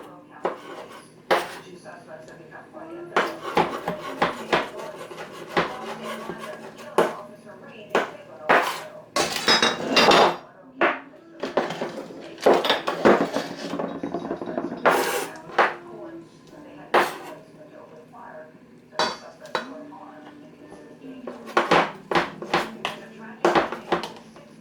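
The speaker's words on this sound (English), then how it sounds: "I'm just gonna take my meat, and I'm just gonna give it a nice little rough chop" Seafood meat being rough-chopped with a knife on a board, giving a series of uneven, close knocks and clatters with some clinking of kitchenware, and a voice talking intermittently throughout.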